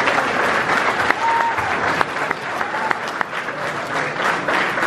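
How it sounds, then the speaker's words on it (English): Loud, dense applause from the audience at a high school jazz band concert on Jazz Night, continuous clapping filling the room near and far with scattered cheers and whistles, no pauses. "give yourself a round of applause"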